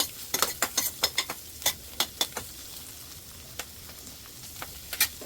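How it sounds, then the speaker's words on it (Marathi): Leftover rice is sautéed in a pan, with a low sizzle under a quick run of sharp scrapes and taps as a spoon stirs it, the strokes thinning out midway and then picking up again. "जस्ट 2 मिनटं असंच सॉते करायचं"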